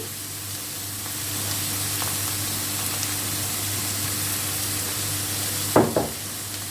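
Chicken liver with pear and sugar sizzles steadily in a frying pan, a constant close hiss with a low hum beneath, and a brief louder spatter of stirring near the end.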